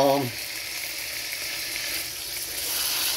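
Sliced peppers and onions sizzle steadily in a pan on a stove at low-medium heat after steak for cheesesteak tacos, a close, continuous frying hiss following a brief bit of speech at the start.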